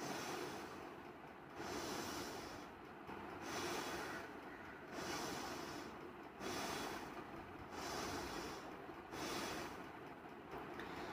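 Rapid, forceful rhythmic breathing of Bhastrika pranayama, with bursts of quick nasal breaths alternating with brief pauses, close and fairly faint, without talk.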